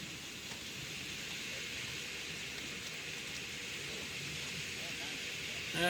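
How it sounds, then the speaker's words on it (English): Light drizzle falling outdoors, a steady soft hiss that runs evenly throughout, with a faint low rumble underneath and no clear speech. "The rain is down to just a little bit of a drizzle right now"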